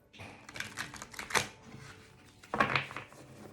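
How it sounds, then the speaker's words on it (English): A deck of tarot cards is shuffled in two quick bursts of riffling, slapping paper sounds, close and fairly quiet, with softer handling rustle between them. "These cards are hard to shuffle"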